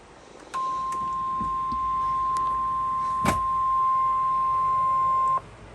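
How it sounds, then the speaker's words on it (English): Emergency Alert System attention tone for a flood warning: a single steady electronic tone holds for about five seconds and then stops abruptly, with faint background noise and a brief click partway through. "we're about to get our first EAS of 2023"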